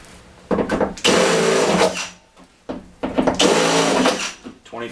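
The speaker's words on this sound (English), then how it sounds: "So I'm going to go ahead and start drilling these holes." A power drill bores holes into a panel of a Mercedes Sprinter 170 van, two loud sustained whirring bursts with short pauses between them, close to the microphone.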